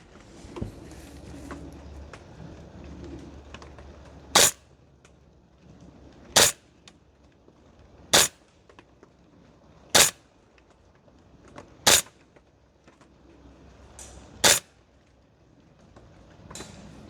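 A Guns Modify 416 MWS gas blowback airsoft rifle fires six sharp single shots at the range, spaced about two seconds apart, each a crisp loud crack over a low background rumble.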